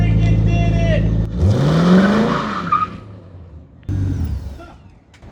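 A C5 Corvette, lifted three inches on 2x4 blocks and fitted with C6 Z06 wheels, strains up a steep driveway, its engine droning loud and near before a rising rev; a person speaks excitedly over it.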